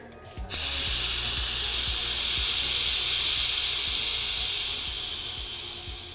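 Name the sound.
air rushing into vacuum chamber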